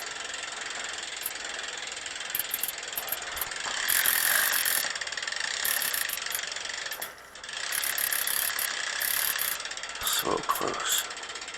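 Road bike gears and rear derailleur ticking and whirring as the cranks turn on a stand during a tune-up, a steady close mechanical clicking throughout with brief speech near the end.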